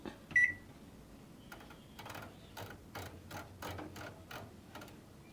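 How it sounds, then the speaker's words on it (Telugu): A convection microwave oven baking pizza gives a short beep, then a faint running hum with a string of soft, regular clicks and ticks in a quiet room. "microwave plus convention"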